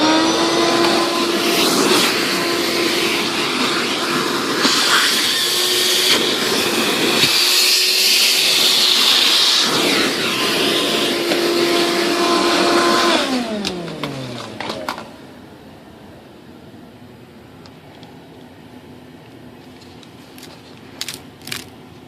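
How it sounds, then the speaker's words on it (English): A vacuum cleaner roars loudly and steadily as it sucks debris out of a 2.6 m composite ASH26 model sailplane during flap installation, its pitch shifting as the nozzle moves, then it winds down, leaving faint clicks. "probably vacuum out the debris"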